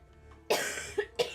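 Three coughs from a person at close range: one long, rough burst followed by two shorter, sharper coughs about a quarter second apart, over quiet background.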